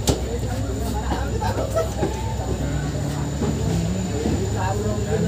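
A train pulls out of Belagavi railway station on time, with a steady low rumble of wheels and carriage noise running throughout, rattles and clanks on top, close and continuous.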